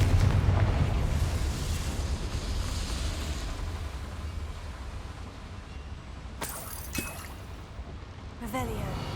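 A Confringo fire spell bursts in Hogwarts Legacy, a low rumbling blast that swells at the start and fades under a steady roar, followed by sharper crackling hits near the end.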